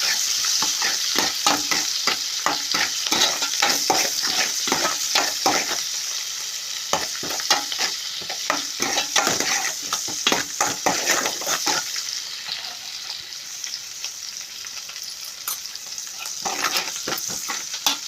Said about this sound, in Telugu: ఇంకా ఆనియన్స్ వేసి ఇలా ఫ్రై చేసుకోవాలి.